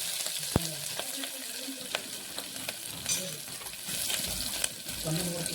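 Curry leaves and green chillies sizzle in hot oil for a rice pulao, with a steady crackling hiss broken by sharp pops and faint stirring taps in a home kitchen.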